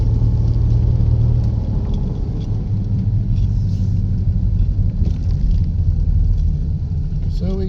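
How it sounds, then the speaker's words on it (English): A cold car engine running a little rough gives off a steady low rumble that stays loud and unbroken throughout. "Car's still cold. Running a little rough."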